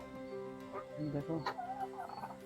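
Large live chickens, around two and a half kilos each, cluck and warble close by in short, overlapping bursts, with a faint background hum.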